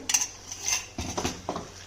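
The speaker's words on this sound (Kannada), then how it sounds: "ಚೆನ್ನಾಗಿ ಇದನ್ನು ಮಗುಚ್ಕೊಳ್ಬೇಕು." A utensil scrapes and knocks against a pan while avarekalu (field bean) curry is stirred, giving several short, close metallic scrapes in a loose rhythm with brief pauses.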